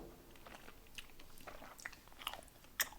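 Korean bread gum is chewed close to the mic, soft quiet wet smacking and sticky clicks in an uneven rhythm, with a few sharper snaps near the end, and no talking.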